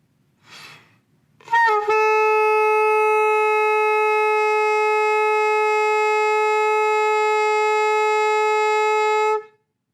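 After a short breathy puff and a squeaky start, a loud, steady, nasal reed tone from a saxophone mouthpiece and neck alone holds for about eight seconds before stopping.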